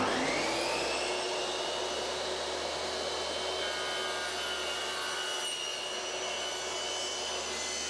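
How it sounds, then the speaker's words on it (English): A saw blade on a Triton Workcentre cuts a groove in a wood workpiece, a steady loud whining motor roar with high-pitched blade hiss that holds throughout without pause. "then you'll be plunging it down on the saw blade"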